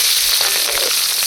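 Onion and green chili tossed into hot oil already spiced with cardamom, cinnamon and cloves make a loud, even, close-up sizzle that never lets up over a brief moment.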